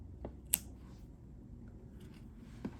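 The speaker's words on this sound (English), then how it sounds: "I'm gonna trim the bottom." Scissors trimming the bottom of a crocheted yarn pigeon, one sharp quiet snip with a fainter click after it against a hushed background.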